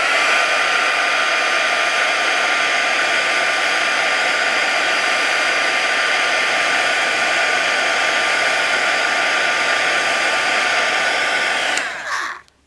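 A hair dryer blows steadily and loudly on wet watercolor paint on homemade Valentine's Day cards, a constant close airy roar lasting about twelve seconds before it abruptly switches off.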